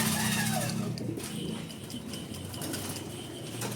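Racing pigeons come back from a 57 km race in Sta. Rosa, Laguna, and flap into the loft with soft bursts of wingbeats, faint coos and light rustling at close range.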